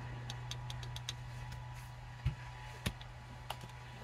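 A pinion turning against a rod gear in a running test gives a low steady hum with faint irregular ticks and a couple of soft knocks, quiet and close, with no talking.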